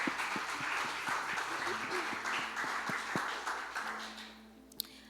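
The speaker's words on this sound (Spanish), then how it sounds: "Dale un fuerte aplauso al Señor" Congregation applauding the Lord during an evening church service, steady dense clapping with a few sharper claps, fading toward the end, with faint voices underneath.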